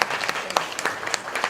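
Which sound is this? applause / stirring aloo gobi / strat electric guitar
applause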